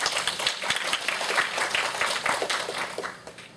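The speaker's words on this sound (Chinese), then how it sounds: "我们给第一组鼓掌" Students in a university sociology class applaud a presenting group. Brisk, dense clapping from many hands runs for several seconds, then tapers slightly near the end.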